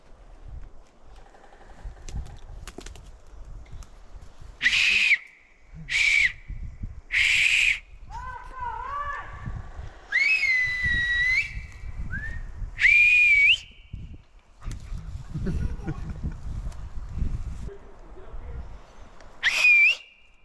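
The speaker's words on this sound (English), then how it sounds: "Whistling out for the dog." Loud, sharp whistles calling a dog ring out in repeated bursts, some short and some long with rising and falling pitch, over low outdoor rumble and rustling in New Zealand bush.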